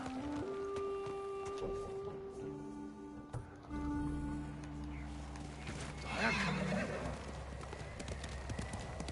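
Horse in Ghost of Tsushima, a game set in snow in 13th-century Tsushima, whinnies loudly and close up, then hooves clip-clop in a steady galloping rhythm against low rumbling game ambience and music.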